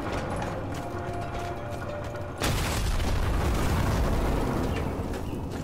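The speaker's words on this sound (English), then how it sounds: "A sticky grenade might work. I'm not sure. Alright, I'm throwing it." In Sniper Elite 4, a sticky grenade lands with a sharp crack midway, followed by a loud, sustained rumbling blast with debris that fills the remaining seconds.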